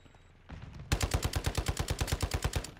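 Call of Duty Modern Warfare 2 gunfire: after a brief muffled lead-in, a rapid automatic burst of about fifteen evenly spaced, loud, sharp shots rattles off in quick succession.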